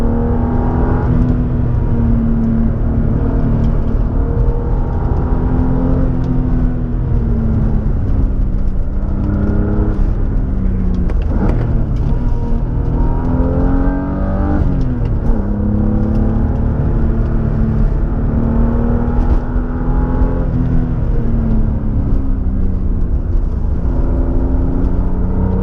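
A car with an E34 steering joint fitted is pushed hard on the road, its engine droning steadily loud with rising and falling revs and a constant whir, no voices over it.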